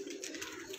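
A Shola pigeon on a rooftop gives a short, soft throaty coo, heard close and alone with faint background hiss.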